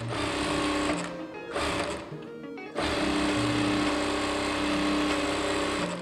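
A Musee M1 power sewing machine runs with a steady, rapid mechanical chatter, briefly stopping and restarting twice before settling into a long sustained run at full speed, fairly quiet and close.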